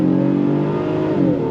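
A 2026 Honda Passport Trailsport midsize SUV with a 10-speed automatic accelerates on throttle, its steady engine note rising and shifting smoothly, loud and close, with no talk over it.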